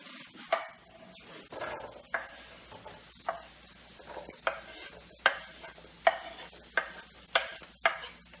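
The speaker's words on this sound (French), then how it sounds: "je vais rajouter les oignons découpés en petits morceaux." Chopped onions frying in a pan, a steady low sizzle broken by regular sharp scraping strokes of a spoon stirring roughly once a second, with no talk.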